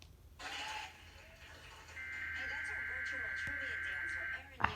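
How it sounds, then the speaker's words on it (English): A steady, loud Emergency Alert System attention tone plays over a WJLA television broadcast, starting after a brief burst of program audio and holding for a couple of seconds before cutting off abruptly. "They let the EAS play."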